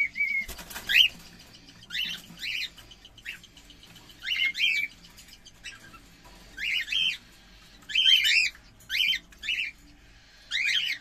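Several caged cockatiels in a breeding setup give repeated sharp squawks and chirps in short bursts, with a flurry of wing flapping near the start, fairly close and otherwise quiet between calls.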